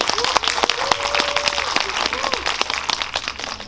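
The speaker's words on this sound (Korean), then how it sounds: "큰 박수로 맞이해주세요." Audience applause welcoming the cast of the film Harbin at a cinema talk event, with sharp, uneven clapping and crowd noise, and a voice speaking over it.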